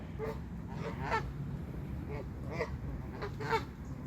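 Geese honk in several short nasal bursts spaced across a few seconds, moderately close, with steady background noise underneath.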